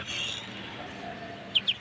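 A hen gives a couple of quick, soft clucks near the end, amid quiet background noise.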